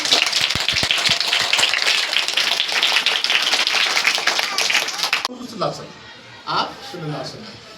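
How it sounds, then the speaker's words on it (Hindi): Schoolchildren at a government Urdu primary school in Chidri, Bidar, Karnataka clap together in a loud, dense burst of rapid hand claps lasting about five seconds, then it stops abruptly and an adult voice speaks. "जोरदार पूरे बच्चों के लिए एक बार जोरदार तालियां बजा लो अपने आप।"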